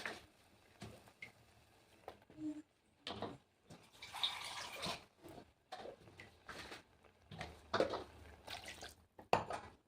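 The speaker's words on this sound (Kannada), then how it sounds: "ಅಳತೆಗೆ ಎಷ್ಟು ಬೇಕೋ ಅಷ್ಟು ನೀರು ಹಾಕೋಬೇಕು" Water is poured into a pot of fenugreek-leaf and field-bean curry in several separate splashing bursts with quiet gaps between them, fairly faint and close.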